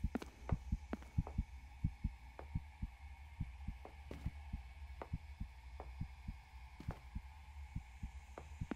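A heartbeat pulses in the horror video game Crimson Snow, a steady series of deep, low thumps over a quiet background hum, beating alone with no talk.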